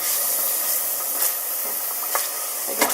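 Two tablespoons of olive oil heat in a pan over medium heat, giving a steady, bright sizzling hiss close by, broken by a few small pops and crackles.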